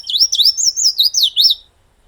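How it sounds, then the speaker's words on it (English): A red-faced warbler or painted redstart in a forest gives a clear, loud, close series of rapid high chirping phrases, about six quick warbled bursts in a row, then falls silent. "they have a very distinct call that you can hear in the forest long before you get to see them"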